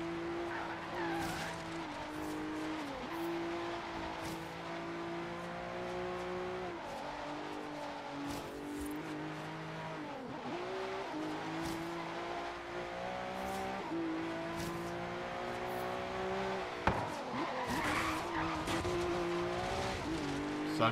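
An S-class car laps a track in Forza Horizon 3, its engine droning steadily with shifting pitch and bursts of tire squeal, heard fairly quietly and continuously throughout.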